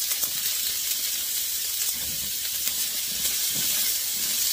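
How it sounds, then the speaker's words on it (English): Sausage frying in a hot pan gives a steady, close sizzle and hiss that runs throughout, with faint stirring or clinking and no talk. "Next is I'm gonna cook my sausage."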